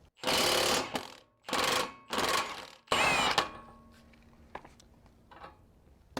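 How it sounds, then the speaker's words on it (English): A high torque impact wrench with a 30mm socket hammers at a hub nut on a 240SX in four loud, rattling bursts, then falls away to a quiet workshop hum. "I'm going to be using this high torque impact that I kind of balled out on"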